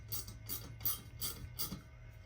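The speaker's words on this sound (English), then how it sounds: "you will basically create threads into the pipe using a simple wrench" Close, quiet ratcheting of a wrench turning an NPT tap to cut threads into a pipe, five evenly spaced clicking bursts over a steady low hum, no talking.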